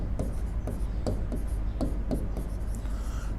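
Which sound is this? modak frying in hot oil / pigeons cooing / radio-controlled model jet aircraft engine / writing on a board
writing on a board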